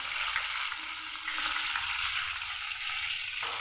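Onion and green chili paste with ginger-garlic paste and turmeric fry in hot oil for a rohu fish curry, giving an even, close sizzle that runs without pause or voices.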